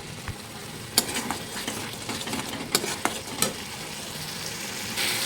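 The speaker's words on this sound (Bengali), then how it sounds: "ভালো করে এখন মশলাটা একটু কষে নেব।" Spice paste being stir-fried in a pan over fried onions for a chicken curry, with a soft steady sizzle broken by several sharp clinks and scrapes of a spoon against the pan.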